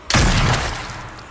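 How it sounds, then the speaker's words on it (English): Gunshots erupt in The Walking Dead video game, a sudden loud blast followed by a rolling burst of gunfire that slowly fades with a long echoing tail. "Why would you start shooting?"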